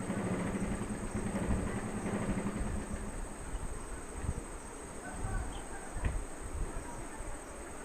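Electronic sewing machine running at slow speed, a low steady motorized buzz heard close up, fairly quiet, with a faint high whine and a few soft clicks.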